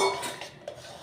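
Semolina is stirred into boiling water in a pot, giving a couple of quick metallic clinks and scrapes of a spoon against the vessel, brief and close, with no talking.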